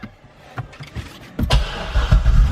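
A 2012 Chevrolet Corvette Grand Sport, a salvage car, starts up: quiet cabin sounds at first, then the engine fires about midway and settles into a loud, steady low rumble.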